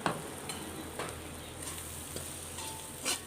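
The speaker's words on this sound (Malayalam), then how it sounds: "ഈ എണ്ണയിലൊക്കെ കിടന്ന് പെട്ടെന്ന് പൊടികൾ മൂക്കും" Chili powder and spices fry in hot oil in a pan, giving a steady close sizzle with a few light scraping stirs and clinks, no voices.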